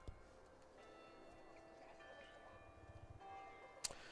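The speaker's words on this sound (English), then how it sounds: "with the bell from St. Anne's Catholic Church ringing in the background" The bell of a Catholic church rings at seven o'clock, heard at a distance across a high school campus during a baseball game. Its soft, sustained tones sit beneath light ambient crowd noise.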